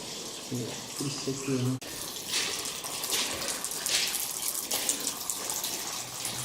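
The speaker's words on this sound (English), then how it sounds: "As you can hear, there is water leaking from here." Water leaking from a cut pipe in an abandoned Melbourne mansion runs and splashes steadily, a continuous gushing trickle close by, with a brief voice at the start.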